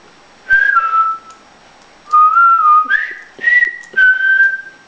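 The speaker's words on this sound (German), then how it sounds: "Du weiter pfeifen" A person whistles a simple tune in short melodic phrases, four bursts separated by brief pauses, close and clear with no talking.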